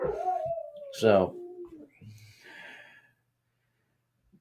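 A dog upstairs in a bedroom whines and lets out a rising howl that breaks into a yelp. Someone speaks briefly over the start, followed by quieter whimpers before silence.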